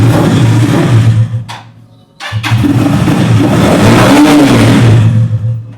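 A cruiser chopper motorcycle with a 250cc single-cylinder oil-cooled engine, loud and close, idling, cutting out briefly, then restarting and revving with no talking.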